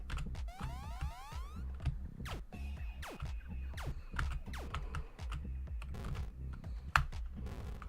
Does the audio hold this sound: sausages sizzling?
no